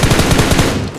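Rapid automatic gunfire from a mobile battle-royale shooter game, bursts fired at a billboard structure, loud and close with a steady rattling rhythm through the whole second.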